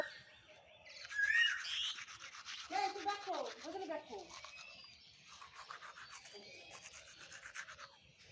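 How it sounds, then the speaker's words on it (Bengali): Someone brushes their teeth with a toothbrush first thing in the morning, a close, uneven scrubbing with a voice talking over it and faint bird chirps in the background. "আমি ব্রাশ করবো এখন"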